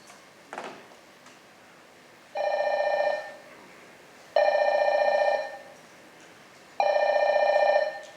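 A telephone at a doctor's clinic rings three times in distinct trilling bursts with short gaps between them, close and clear over a quiet room.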